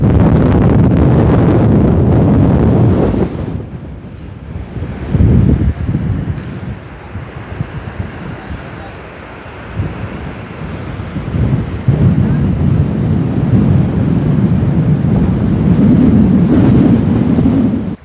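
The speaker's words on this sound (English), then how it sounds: "I'm gonna turn you into the wind now." Strong wind gusts through a High Tatras mountain valley, a loud continuous roar buffeting the microphone, easing briefly before surging back.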